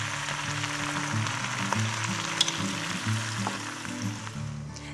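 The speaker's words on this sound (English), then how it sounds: "add your Brussels sprouts and some salt and saute those for about 5 minutes" Brussels sprouts saute with salt in melted butter in a skillet, a steady close sizzle with faint crackles and the occasional stir, without any voices.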